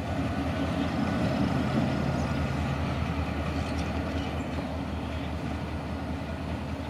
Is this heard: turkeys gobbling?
no